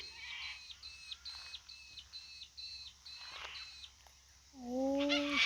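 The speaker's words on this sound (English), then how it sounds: "Got some parrots in the trees." Repeated chirping calls of parrots in trees beside a river, a run of evenly spaced squawks at moderate distance, then a louder, closer burst of calls at the end.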